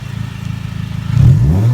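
A car engine, stock apart from its downpipe and Hasport rear engine mount, idles with a throbbing pulse before revving sharply into a louder, rising roar, heard up close.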